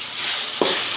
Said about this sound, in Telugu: ఆ 2 టమోటా కట్ చేసుకునేది బాగా వేయించుకోవాలి